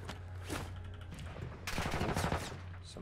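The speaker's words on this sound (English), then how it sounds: "Somebody's shooting at us." Video game gunfire crackles in bursts, a rapid fusillade of shots with a loud cluster near the middle, alongside faint background game sounds.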